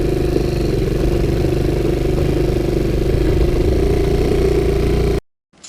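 A Sunl 110cc ATV engine runs steadily with a clattery mid-pitched drone at constant speed, close and loud, then cuts abruptly to silence near the end.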